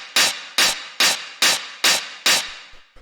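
Six big, full hard-techno hi-hat hits sound in a steady, even rhythm, each a loud, broad noisy burst with a short decaying tail. They play close and alone, with no voices.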